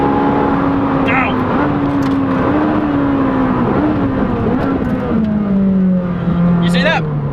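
Ferrari 458 Speciale in race mode braking hard, its engine dropping through gears with a loud, continuous roar that steps down in pitch, with a few sharp blips near the end; a person talks briefly over it.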